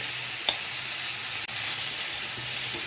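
Cauliflower florets and potato pieces fry in hot oil for a Bengali fish curry, giving a close, continuous sizzle with a couple of faint utensil clicks and no talking.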